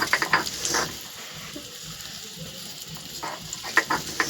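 Meat is stirred in a pan while cooking for a home Christmas Eve meal. It gives a soft, steady sizzle with scattered scraping and clinking of a spoon against the pan, fairly quiet and close, without speech.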